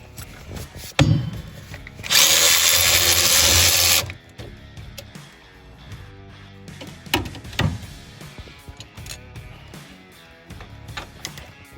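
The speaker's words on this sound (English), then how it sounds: "Using a 1/2-inch socket and the battery-powered ratchet, George unscrewed and removed the 6 bolts" A battery-powered ratchet with a 1/2-inch socket spins off transmission tower bolts on a Ford Model A, a loud sustained whir of about two seconds after a short knock, followed by scattered clinks and handling noises.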